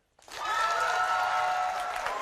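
Talk show studio audience breaks into applause after a brief silence, a dense, steady clapping that fills the room evenly and stays loud to the end.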